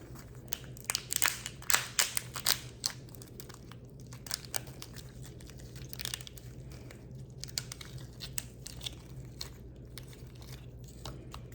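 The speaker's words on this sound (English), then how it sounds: "So here's my lobster tail. We are going to cut it down the middle." A knife cuts down the middle of a raw lobster tail, making a cluster of close, crisp cracking and crunching sounds as it splits the shell, then sparser clicks and scrapes. No one speaks.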